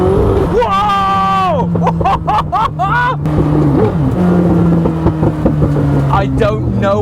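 A Koenigsegg Chimera, a manual Jesko blended with an Agera RS, revs hard and drops through downshifts, its pitch sweeping up and down in quick bursts over a steady drone. Excited voices talk over it close by.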